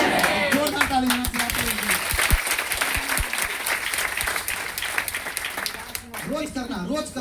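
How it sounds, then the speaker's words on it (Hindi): A crowd at a DXN meeting in Patna breaks into loud, sustained applause with dense clapping throughout. A voice speaks over the start and again near the end. "जोरदार ताली बजाना।"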